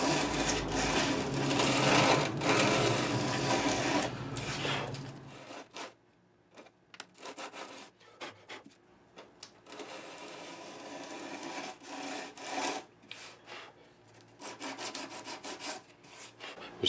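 Sanding a thick finish off a classical guitar with 80 grit sandpaper: rapid, raspy back-and-forth scrubbing in close bursts, with a long pause midway before the rough strokes start up again.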